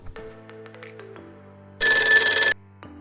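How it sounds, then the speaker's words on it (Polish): A single burst of electronic telephone ringing, bright and trilling, lasts under a second over a quiet room with faint low hum. "Mamo, telefon!"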